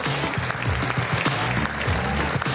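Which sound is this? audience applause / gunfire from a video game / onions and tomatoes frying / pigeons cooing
audience applause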